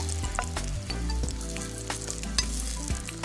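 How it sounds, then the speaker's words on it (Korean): Steak frying in hot oil in a pan, the meat salted and lightly dusted with flour, gives a loud, steady sizzle with crackling pops and spatters throughout, close up and without talk. "많이 튀는 걸 방지하기 위해서는 소금을 뿌려놓고 밀가루를 이렇게 살짝 묻혀가지고 튀기면은 이렇게 많이 튀지 않을 수가 있으니까"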